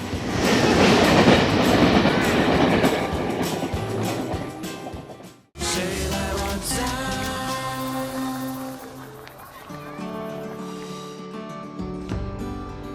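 A passenger train runs past at close range, first a loud roaring rumble of wheels, then a brief drop, then rhythmic clattering and humming rail noise that fades toward the end, without any talk.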